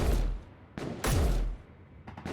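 Turret gunfire in Space Engineers, a few heavy booming shots with deep thuds, spaced irregularly and fairly loud, the last ones fainter as if from farther off.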